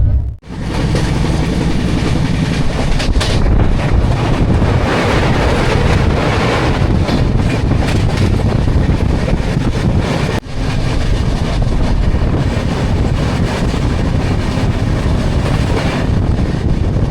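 Steady, loud rumble and rush from inside a moving train bound for Shimla, with continuous wheel and carriage noise plus wind buffeting, a brief dropout near the start and another short dip around ten seconds.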